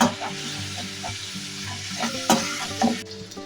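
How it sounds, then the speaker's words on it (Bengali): Mutton frying with turmeric, coriander and Kashmiri chilli powder in a pan, a close continuous sizzle broken by repeated spoon scrapes and knocks as the meat is stirred, loud and with no talking. "মটনের সাথে ভালো করে মশলাটাকে কষিয়ে নিচ্ছি"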